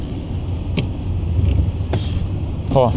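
Low engine rumble from a Ford Sierra turbo while driving, a steady moderate drone with a few brief sharp transients.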